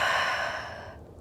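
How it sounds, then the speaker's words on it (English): A single deep breath drawn in and let out slowly during a yoga flow between poses, a soft, airy exhale fading away, close and alone. "Take a deep breath in and deep breath out."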